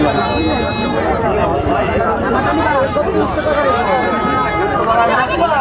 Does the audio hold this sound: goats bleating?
yes